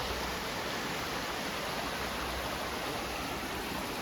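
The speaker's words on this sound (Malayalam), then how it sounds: "ഈ വെള്ളം അവിടുന്ന് ഒലിച്ചു വരുന്നതാണ്." Water trickling down a stream along a path toward a quarry, a steady, even rush of flow heard close with no voices.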